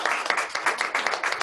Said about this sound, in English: these two distinguished presenters deserve a round of applause